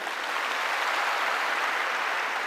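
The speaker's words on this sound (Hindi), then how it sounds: "एक बार प्लीज जोरदार इनके लिए ताली हो जाए।" Steady, dense audience applause fills the hall at a Delhi success-day testimony event, loud and continuous for the whole stretch with no talking over it.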